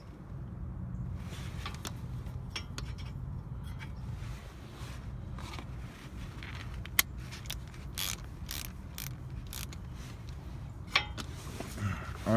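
A ratchet clicks away in quick bursts as it loosens the front brake bolts on a 2017 Acura ILX, with sharp metallic ticks and clanks over a low, faint background hum, close by and with no talking.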